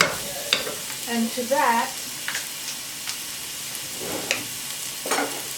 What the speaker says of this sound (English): all I'm doing right now is sauteing some onions with salt, pepper, and olive oil.